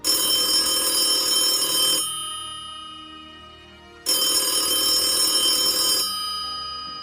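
A telephone bell rings in two long bursts, each about two seconds of bright continuous trilling separated by a pause, loud and close with no voices.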